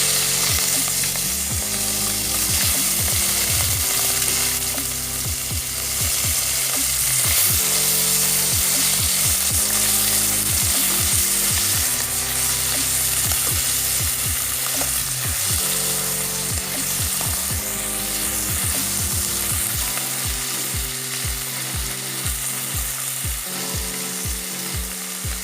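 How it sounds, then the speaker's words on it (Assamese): Small fish fry in hot oil in a kadai, giving a loud, continuous sizzle close up, with rhythmic low thumps and scraping from stirring near the end and no voices. "এতিয়া মাছকেইটা ভাজি লওঁ।"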